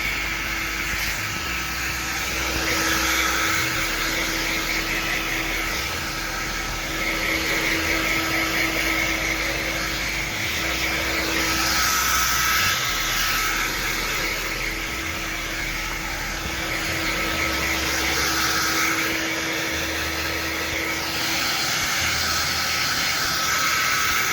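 A hair dryer runs continuously at close range with a loud steady airy roar and whine while hair is blow-dried with a vent brush, the airflow swelling and dipping slightly as it moves.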